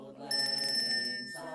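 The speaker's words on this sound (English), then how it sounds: "every time a bell rings, an angel gets his wing" A bell rings within a radio drama, a bright sustained metallic ringing with steady high tones that starts sharply and holds over a low hum of other sound, fairly close and moderately loud, fading near the end.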